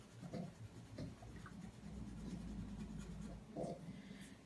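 A pencil shades dark strokes onto paper, a soft continuous scratchy rasp with brief louder scrubbing bursts, quiet and close up with no talking.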